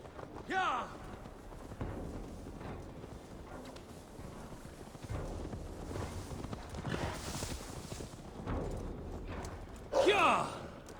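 Horse hooves clip-clop in Assassin's Creed Valhalla as the rider trots along, a steady rhythmic beat heard under in-game sound effects with a couple of louder bursts.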